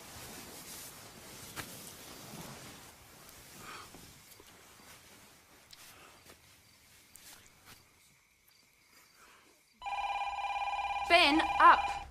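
A telephone rings loudly near the end, after a long stretch of faint room noise and soft movement, with a voice in the background.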